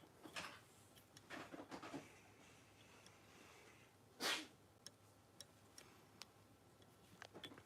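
A single sharp sneeze bursts out midway through a quiet indoor room at a jig-tying bench, standing alone amid faint ticking and small handling noises.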